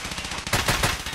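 Gunfire in Escape from Tarkov during a close fight in the Factory map: a few rapid, loud shots in quick succession, with dense crackling fire toward the end of the brief burst.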